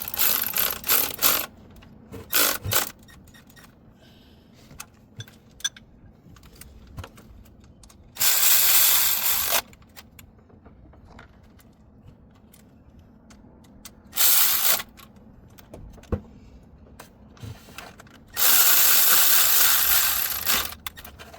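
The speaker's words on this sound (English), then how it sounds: "So we'll sit them with the ratchet." Ratchet clicking in several bursts as water pump bolts are snugged down on a 2015 Ford F-150 with the 3.5L engine, loud and close with quiet gaps between bursts and no talking.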